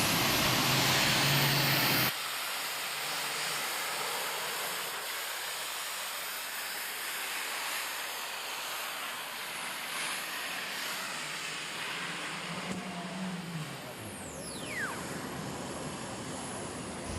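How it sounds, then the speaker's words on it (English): Turbine-powered pulling tractor with a T-53 Lycoming engine at a county fair tractor pull, a loud steady jet roar and hiss starting with a burst, then sustained throughout, with a falling whine near the end. "David Turkelson coming up right now, sitting aboard this T-53 Lycoming."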